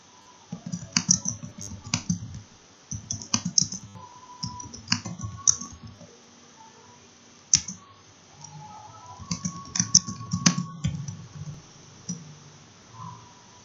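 Keys tapped on a computer keyboard while entering an open-ended quiz question, coming in several short bursts of close, crisp clicks separated by brief pauses.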